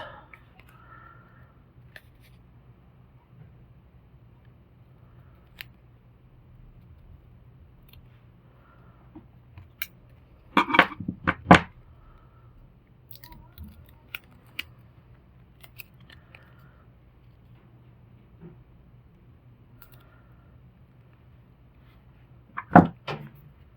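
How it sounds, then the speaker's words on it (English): Plastic film peeled off Color Street nail polish strips, heard as two short crinkly, crackling bursts about ten seconds apart over a quiet background hum. "Let's peel plastic first."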